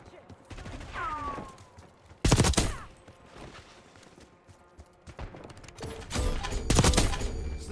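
Bursts of gunfire from the game Black Ops 6 crack out in short volleys, sharp shots scattered among quieter stretches where a voice talks over the action.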